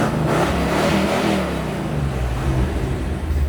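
A 1969 Pontiac GTO convertible, warmed up, revs under light throttle with a deep throaty engine rumble that swells briefly and then holds steady, close and fairly loud.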